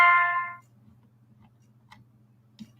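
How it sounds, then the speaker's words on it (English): A mobile phone's notification chime gives one short, bright tonal burst that fades within half a second. After it, only a low steady hum and a few faint ticks remain. "I forgot to mute my phone again."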